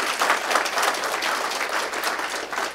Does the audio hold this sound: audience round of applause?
yes